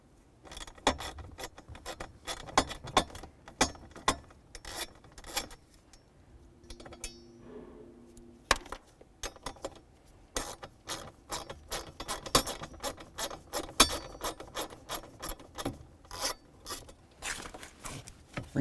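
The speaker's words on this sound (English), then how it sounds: "Go ahead and remove the pair using a 7mm socket." Mounting screws on a 2000-2005 Buick LeSabre blower motor being worked loose with a 7mm socket: irregular bursts of close metallic clicks and ratcheting clinks with short pauses, no talking.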